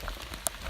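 Rain patters steadily on a surface along the Appalachian Trail, with one brief sharper drop-like tap standing out midway through the quiet, continuous wash.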